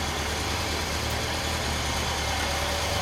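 A 2004 Honda CB750 RC42 motorcycle idles through its exhaust muffler with a steady, close, low rumble that holds even for the whole stretch. No voices.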